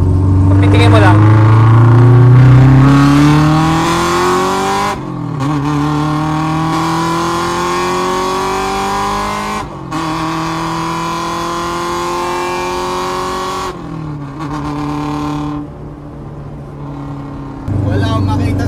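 Honda Civic EG hatchback with a B20 DOHC engine revving hard through second gear, loud rising engine pulls broken by brief gaps for shifts, heard from inside the car with voices talking over it.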